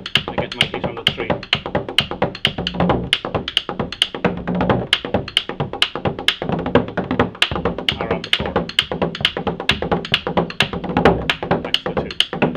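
A frame drum played in a steady triplet rhythm, with sharp, regular strokes and accented beats repeating evenly, close and loud throughout.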